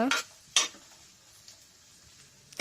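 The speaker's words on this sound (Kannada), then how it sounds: "ಸ್ವಲ್ಪ ಈರುಳ್ಳಿಯನ್ನು ಹಾಕಿಕೊಳ್ಳೋಣ. ಆಗ ಫ್ ರೈ ಮಾಡಿಕೊಂಡು" Sliced onions are fried in a pan, with a few sharp scrapes of a stirring utensil against the pan over a faint low sizzle, quiet and close.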